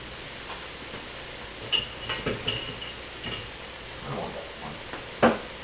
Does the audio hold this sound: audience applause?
no